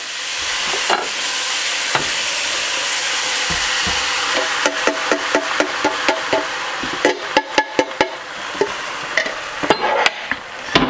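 A spoon stirs crushed tomatoes through a pot of Swiss steak, starting with a soft steady simmering hiss, then turning to a run of sharp scraping knocks against the pot in irregular bursts, close up and without talk.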